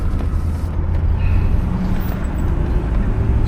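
Steady low engine drone and road rumble from a 1966 Cadillac Deville convertible cruising along, a smooth continuous hum heard from inside the car with no other sounds on top.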